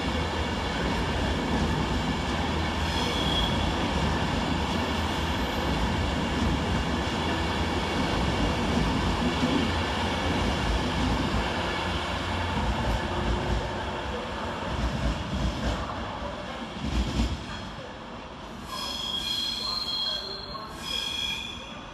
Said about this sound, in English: And having to use platform 1 to glide through, 390-002 works 1 Tango 15 from Wigan Northwestern to London Euston, running 18 minutes late.